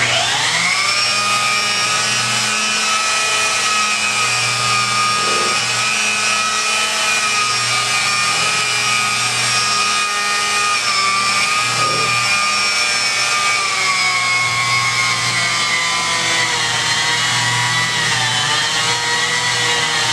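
Polishing buffer spinning on a sun-damaged vinyl strip, a continuous loud high-pitched motor whine with shifting tone as the pad works the surface, close and steady throughout.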